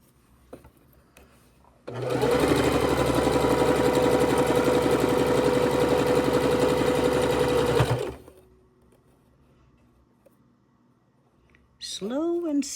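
A sewing machine stitches pieces of a king-size quilt together, starting abruptly and running at a steady loud whir for about six seconds before stopping, with quiet talk after.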